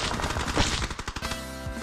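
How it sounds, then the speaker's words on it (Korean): Rapid automatic gunfire in the battle royale game PUBG rattles out in a dense burst, followed by several spaced, sharp single shots, close and loud with no talking. "목표 지점을 찍자마자 들리는 총성"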